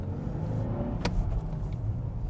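A 2023 Nissan Z sports car with a manual gearbox drives along, its engine a low, steady rumble heard from the cabin, with a brief sharp click partway through.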